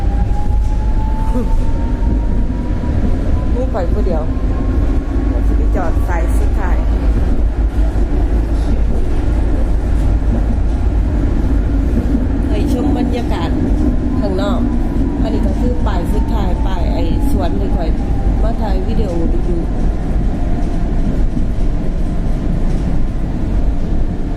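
A train rumbles past steadily with a low continuous roar, wheel clatter and a rising whine, heard from inside the train, while a voice talks over it.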